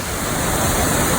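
Steady roar of water pouring down at Gurara Waterfall, a dense, even wash of falling water close by with no breaks, continuous and fairly loud.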